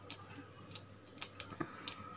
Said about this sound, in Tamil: இப்போ நம்ம வந்து கடுகு போட்டுக்கலாம்